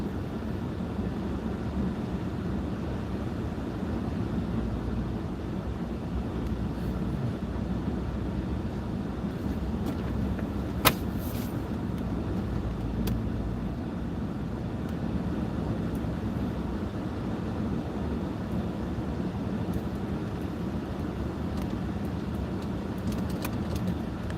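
Steady road traffic near Panama City Beach, Florida, a continuous broad rumble of passing vehicles heard from close by, with one brief sharp click partway through and no voices.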